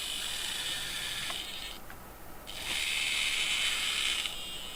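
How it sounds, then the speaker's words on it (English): A Holy Stone HS700E drone's camera tilt servo whirs with a gritty, uneven mechanical buzz in two close bursts separated by a brief pause, loud and alone with no talk. "It does have a tilt feature, so you can tilt the camera downward, but the servo that tilts it is like not very smooth."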